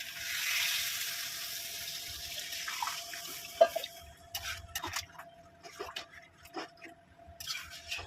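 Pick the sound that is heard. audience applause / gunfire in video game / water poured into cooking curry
water poured into cooking curry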